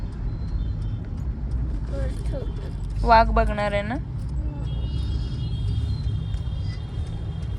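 Low, steady engine and road rumble fills a car crawling through heavy Pune traffic near Katraj. A voice and brief clinking come in over the constant drone.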